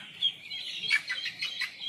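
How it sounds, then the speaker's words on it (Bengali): A pet bird in a home aviary gives a run of short, high chirps and tweets, fairly close and clear, over a quiet background with no talking. "আরও এক ধরনের পাখি আছে"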